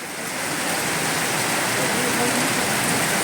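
Heavy monsoon rain pouring down in Mumbai, a dense, constant hiss of downpour that fills the scene steadily and loudly from start to end.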